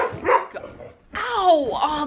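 A dog gives a couple of short barks and then a drawn-out whimpering whine, fairly close and loud, with people talking indoors around it.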